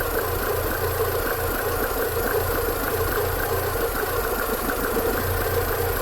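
A 2003 Mini engine idling with a misfire, a steady close mechanical rumble with an uneven, knocking pulse running throughout, no voices.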